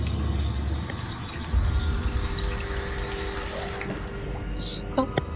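A water tap runs in the horror mobile game True Fear: Forsaken Souls, a steady hiss of flowing water with faint clicks and game effects toward the end, fairly quiet and alone.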